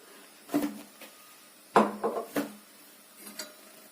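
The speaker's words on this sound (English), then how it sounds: "Let's mix it in. This makes our hot chocolate thicker." A whisk stirring cornstarch into hot chocolate in a pot makes a few irregular clinks and scrapes against the pot, close and moderately loud, in short clusters separated by brief pauses, with no voices.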